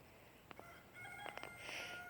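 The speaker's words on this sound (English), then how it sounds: "It's just a noisy rooster." A neighbor's rooster crows faintly in the distance, a couple of short, thin calls rising over a quiet outdoor background, no one speaking.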